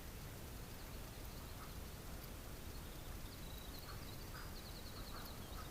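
A flock of ducks quacks at a creek, faint and far off, in scattered calls over steady broadband noise.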